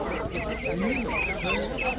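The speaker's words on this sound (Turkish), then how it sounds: "Ördekler buradan devam ediyor." Ducks quack repeatedly at a bird market, several overlapping nasal calls close by, with people talking underneath amid the market bustle.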